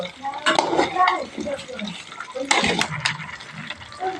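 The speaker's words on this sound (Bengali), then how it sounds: "এখন আমি কিছু সময় ভাজা করব এই বড়ইগুলি" Jujubes frying in hot oil with garlic for a pickle give a close, bursty sizzle that rises in two louder waves, with a voice talking over it.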